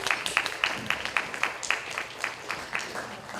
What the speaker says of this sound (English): So can we give them a quick round of applause?